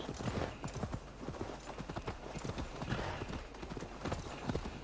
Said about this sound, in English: This is one of my new horses.